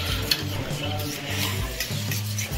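A spoon swirls food colouring into milk for chicken biryani, producing a close, soft rhythmic scraping and swishing, with a faint clink, over a steady kitchen hiss.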